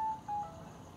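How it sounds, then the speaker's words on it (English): Telephone tones sound at close range: a short steady beep, a brief gap, then a second longer beep, after which only a quiet room hiss remains. "That was just the phone for people that didn't hear that."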